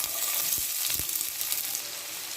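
Two chopped onions frying in a pan with whole garam masala and a little sugar make a steady, bright sizzle throughout, with a couple of soft stirring knocks and no voices.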